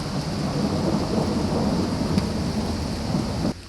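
A thunderstorm rumbles over a hilltop near an abandoned Arctic restaurant, a dense, sustained roar of rolling thunder mixed with rain noise, loud and continuous until it cuts off at the end.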